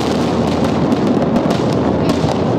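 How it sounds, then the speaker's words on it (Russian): Dynamite charges demolish the Cathedral of Christ the Saviour in Moscow, a loud, sustained rumbling roar of blasts with crackling debris throughout, no voices over it. "и применяют динамит."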